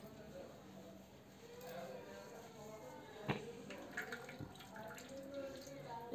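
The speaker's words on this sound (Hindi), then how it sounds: "इसका पहले पानी निचोड़ लेते हैं।" Water wrung by hand from grated radish being prepared for radish parathas in a home kitchen, heard as wet trickling and dripping with a few soft squelching pops over a steady background hiss.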